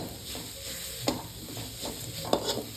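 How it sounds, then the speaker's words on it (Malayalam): Onions and spices, with coriander and pepper powder just added, being stirred in a pan for kappa and chicken: a soft sizzle runs under scraping stirs, with two sharper clinks of a spoon against the pan. "അപ്പോൾ നമ്മൾ നന്നായി ഇളക്കി ഇത് മിക്സാക്കി കൊടുക്കുക"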